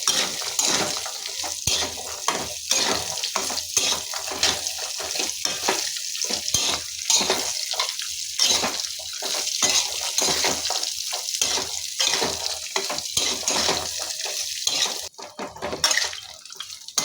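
Raisins, plain and black, frying in a pan of ghee after cashews and almonds while making kharik laddu, a steady bubbling sizzle with intermittent stirring and scraping, close and continuous.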